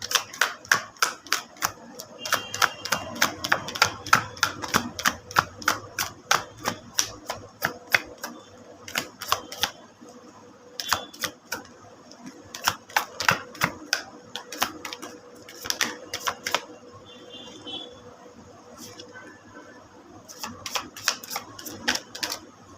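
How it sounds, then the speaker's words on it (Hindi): Tarot cards being given a full shuffle, a long run of quick crisp riffling clicks and flicks in dense bursts with brief pauses, close and fairly quiet, with no talking. "एक फुल शफल लूँगी और देखते हैं कितने कार्ड्स आते हैं"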